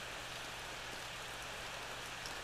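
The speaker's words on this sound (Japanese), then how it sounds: "雨が降ってますね。" Rain falls in the Ao Oni horror video game, a steady, soft hiss of drops on a surface, quiet and unbroken, with no voices.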